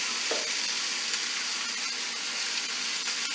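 Beef and broccoli with pasta tossed in a hot pan, a loud, dense, steady sizzle with hissing and a brief scrape of stirring near the start, close and continuous with no talking.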